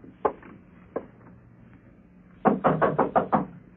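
A door knock sound effect from a radio suspense drama: a single knock, another about a second later, then a close, firm run of about six quick raps.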